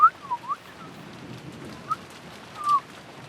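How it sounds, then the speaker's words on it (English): A person whistles by drawing air inward, giving a few short, thin whistled chirps and slides near the start, another brief note midway and a longer louder one near the end, over a soft steady background hiss. "I can whistle by, like, sucking air in real easy"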